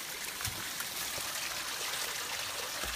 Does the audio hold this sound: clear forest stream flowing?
yes